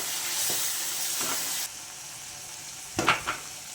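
Tamarind juice hitting a hot pan for chitranna, a loud sizzle and hiss that suddenly drops away, followed by a few scraping stirs in the pan.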